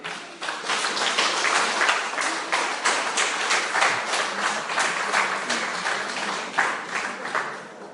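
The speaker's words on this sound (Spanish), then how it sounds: "dele un aplauso al Rey" A church congregation claps together in worship, loud rhythmic applause with distinct beats falling roughly in time, continuing steadily throughout.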